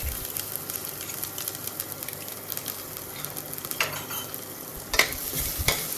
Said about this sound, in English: now saute it